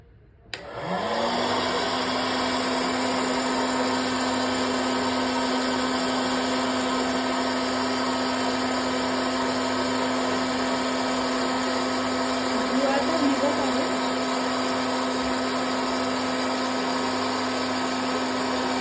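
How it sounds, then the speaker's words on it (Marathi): An oil-free popcorn machine switches on and its motor settles into a loud, steady whirring hum that runs unbroken for nearly twenty seconds as the machine heats up. "थोडा टाइम लागतो याला पॉपकॉर्न व्हायला, कारण मशीन जे आहे ते गरम होतं."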